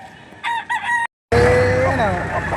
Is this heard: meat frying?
no